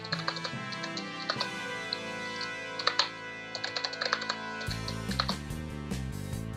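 Keys clatter on a computer keyboard in quick irregular bursts of close, crisp taps as a password is typed, with a quiet electronic hum beneath and no speech.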